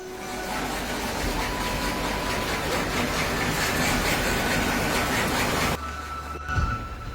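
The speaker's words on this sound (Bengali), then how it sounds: "এরপরে এই বোতলগুলো নিয়ে কুচি করা হয় মেশিনের সাহায্যে" A machine shreds discarded plastic bottles into flakes with a loud, continuous grinding roar close by that holds steady, then drops to a lower rumble near the end.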